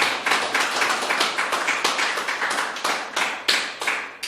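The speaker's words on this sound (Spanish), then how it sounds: "Y ahora aplaudan al Dios vivo." A church congregation claps in praise, dense and steady, with rhythmic surges of many hands across the whole stretch and no voices over it.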